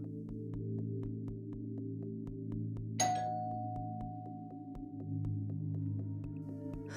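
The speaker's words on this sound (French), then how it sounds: "Soudain, la sonnette sonne." A doorbell rings once with a bright electronic chime over a steady low mechanical hum and a faint ticking pulse, with the tone lingering and fading.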